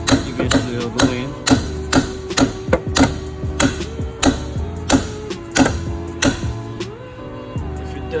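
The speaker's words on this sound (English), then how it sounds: "you grab like a rubber mallet. Rubber hammer, whatever you want to call it, tapping on it, eventually it'll go in" Rubber mallet tapping a Mustang rear control arm into place, about a dozen sharp, regular knocks roughly every half second, close and loud, with a faint ringing metallic tone between strikes.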